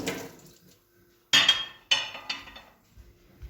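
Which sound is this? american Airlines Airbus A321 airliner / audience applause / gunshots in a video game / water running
water running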